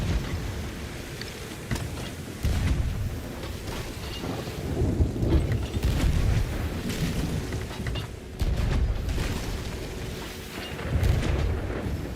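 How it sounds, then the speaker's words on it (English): Thunder from a storm at sea in a pirate video game rumbles in heavy, rolling booms over steady rain-like hiss, swelling and fading in several waves, with no voices. "Steer away from the storm a little bit."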